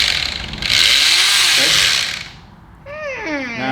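A faulty DeWalt hammer drill whines loudly in a harsh, high burst lasting about a second and a half, then winds down, followed by nearby voices talking.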